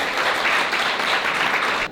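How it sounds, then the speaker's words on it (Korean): An audience claps in a sustained burst of applause as a presenter is introduced to pitch a product idea, dense and even before it drops off at the end. "큰 박수 부탁드립니다"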